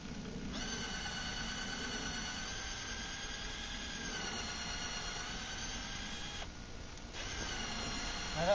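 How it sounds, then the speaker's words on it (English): A power drill whines at high pitch as it pre-drills nail holes into shed framing wood, pausing twice and restarting, steady and close by. "I'm going to pre-drill these holes"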